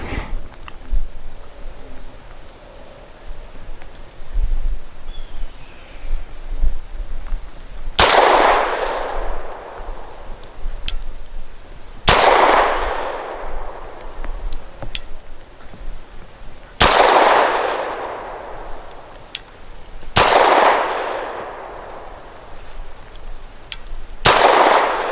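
Five sharp Walther P5 pistol shots at a shooting range, the first fired double action, spaced a few seconds apart, each a loud crack with a ringing decay, with quiet room tone between.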